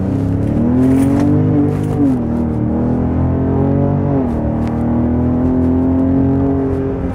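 A Ford F-150 Raptor with a Borla stainless mid-section, X-pipe and S-Type mufflers, its V6 exhaust droning loud and close as revs climb, drop briefly and rise again into a sustained smooth hum.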